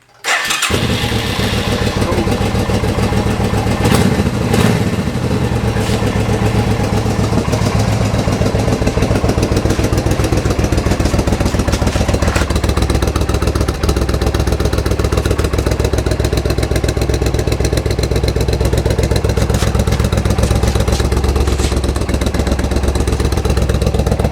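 A 1985 Suzuki Intruder 750 motorcycle engine cranks and fires right at the start, then settles into a steady, loud, close idle with a throbbing low rumble and light mechanical clatter for the rest of the clip, with no talking.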